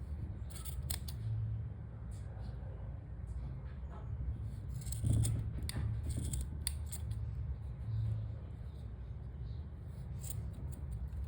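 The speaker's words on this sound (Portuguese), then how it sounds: "Vamos cortar aqui as pontas." Scissors snip the loose ends of t-shirt yarn on a crocheted bag, a few quiet, close cuts spaced apart over a faint background.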